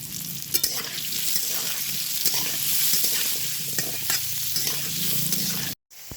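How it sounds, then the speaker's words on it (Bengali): Cut potatoes with a little turmeric frying in hot oil for egg pulao, a loud continuous sizzle with intermittent stirring clicks, cutting off abruptly near the end. "ওই তেলেই দিয়ে দেবো কেটে রাখা আলু সামান্য একটু হলুদ দিয়ে দিব"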